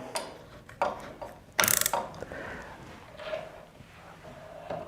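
Chuck being tightened on the stirrer shaft of an Orb jacketed reactor, heard as a burst of close mechanical ratcheting and clicking, followed by softer handling clatter and metal contact.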